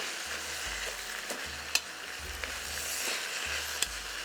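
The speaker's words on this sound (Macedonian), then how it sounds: "сега се пржи, но уште малку ќе почне и да се динста" Shredded cabbage fries in a hot pot while a spoon stirs and scrapes through it for a cabbage and lentil stew; a soft steady sizzle carries rhythmic low scraping strokes and a couple of sharp clinks.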